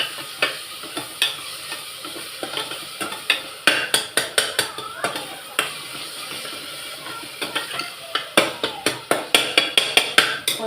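Biryani with mint leaves is stirred in a pot for a festive home lunch, with repeated close scraping and rattling strokes in quick bursts over a soft sizzle.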